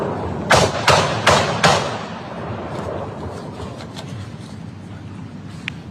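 Several sharp shots from a semi-automatic pistol fired in quick succession, roughly four bangs over two seconds, heard as playback through a speaker in a courtroom, followed by a dull reverberant tail.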